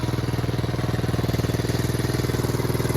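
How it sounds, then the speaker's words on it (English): A 1975 Honda Z50J motorcycle's small engine idles steadily up close, a fast, even putter with a regular pulsing beat and no voices. "So yeah, idles very nicely."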